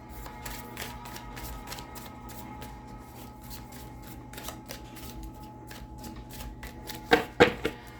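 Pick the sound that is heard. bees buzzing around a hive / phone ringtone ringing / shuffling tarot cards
shuffling tarot cards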